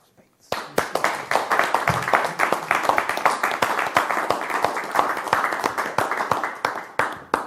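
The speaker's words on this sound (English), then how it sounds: "I'm going to keep applauding" An audience applauds after a card trick, steady dense clapping that starts abruptly and carries on loudly throughout, with many hands overlapping close by.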